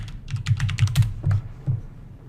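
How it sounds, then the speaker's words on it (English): Rapid typing on a computer keyboard, a quick burst of close, clicky keystrokes in uneven clusters that trails off into a few final taps. "I type incidents."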